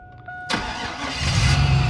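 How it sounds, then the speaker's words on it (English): An old farm truck's engine cranks and catches abruptly, then settles into a steady, rough running rumble close by, with no voices over it. "See? Starts right up."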